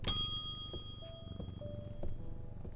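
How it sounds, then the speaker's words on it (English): A bell rung in the Strange Antiquities video game gives a bright metallic strike at the start that rings out and fades, followed by softer tones over light background sounds. "Ring the bell."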